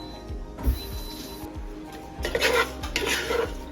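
Grated coconut for Kerala koottu curry roasts in a pan while a spatula scrapes and stirs it in repeated strokes, with metallic knocks against the pan and a busier flurry of scraping near the end.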